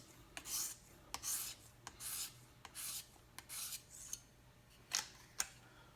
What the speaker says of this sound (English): We're going to go ahead and do some light into the edge strokes now